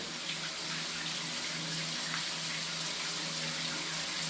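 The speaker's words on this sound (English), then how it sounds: "douse myself in some water" Steady running water from a tap or shower pours continuously and close as someone douses themselves, a constant rushing hiss with no voices.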